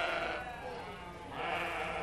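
Sheep bleating in a show ring at a 4-H county fair sheep show, two drawn-out bleats with a brief dip between them, fairly loud with a noisy hall in the background.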